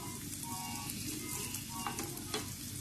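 Chicken sausage fries in a pan with a continuous close sizzle and soft crackling pops, steady and moderately quiet throughout.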